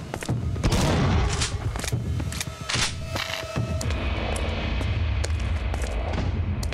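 Gunfire bursts in the horror game Unloved: loud, close shots crack in a rapid cluster at the start, then scattered single shots and booms over a rumbling background.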